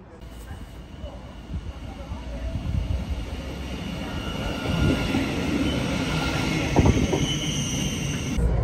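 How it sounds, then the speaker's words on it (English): Train rolling along rails, a steady low rumble and rattle of carriages with occasional sharper clanks and a faint high squeal, heard from inside among a crowd of football match-day passengers, with people talking nearby throughout. "Let's get on that train."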